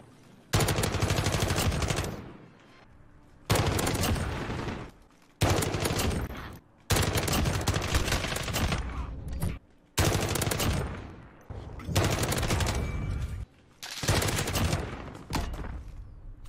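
A Holger-26 machine gun with no attachments fires in a video game, loud sustained automatic bursts of roughly two seconds each, separated by short pauses, alone without talk.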